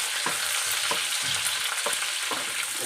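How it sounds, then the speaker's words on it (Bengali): Diced onions and capsicum fry together in a pan, giving a constant bright sizzle with rhythmic scraping strokes of stirring about every half second, close and without talk. "দুটো একসাথে ভাজা করব"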